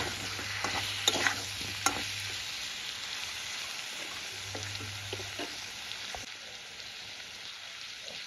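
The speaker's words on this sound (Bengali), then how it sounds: "দিয়ে আমি আর একটু নেড়ে নেব, যাতে টমেটোটা সবজির সাথে ভালোভাবে গলে" Tomato and vegetables for a drumstick fish curry fry quietly in a pan, a utensil stirring with soft scraping and a few sharper taps over a low steady sizzle, no talking.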